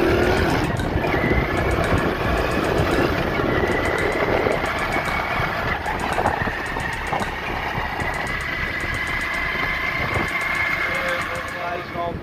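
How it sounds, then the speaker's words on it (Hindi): A repaired motorcycle engine runs steadily throughout, a continuous close rumble with a faint talking voice and rainy-weather noise mixed in. "ये देखिए, ये मेरा मोटरसाइकिल भी ख़राब हो गया है, तो अभी इसे बनाया मैंने।"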